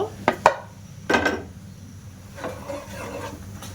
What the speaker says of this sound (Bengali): এবার আমি ওই সুজিটা দিয়ে দেব।